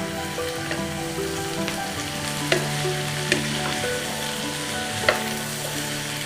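Taro rice ingredients stir-fry in oil for taro baked rice, a loud, dense sizzle close up with a few crisp spatula clicks and scrapes.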